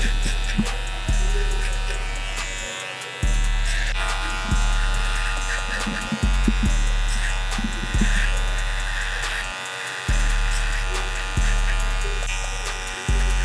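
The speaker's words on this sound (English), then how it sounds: "Right now I'm just gonna clean up the area that should be bald with my liners here." Cordless hair clippers (liners) buzz steadily and close while trimming the bald area of a high top fade, the motor hum dipping and restarting every couple of seconds as strokes repeat.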